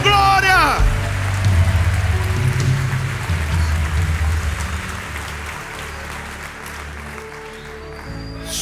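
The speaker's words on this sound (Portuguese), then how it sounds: "Dá uma salva de palmas ao Senhor." A congregation claps at a Portuguese-language church service, steady, dense applause that sounds almost like rain, starting after a brief sung or shouted phrase and slowly fading over several seconds.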